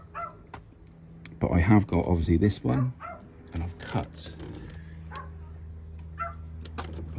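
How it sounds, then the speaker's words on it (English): A dog named Ruby barks in excited bursts a short way off while someone talks over it, the barking briefly loud then fading into scattered yips. "Sorry about the dog"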